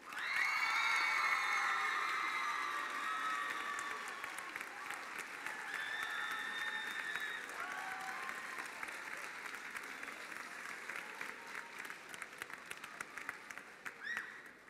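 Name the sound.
audience applause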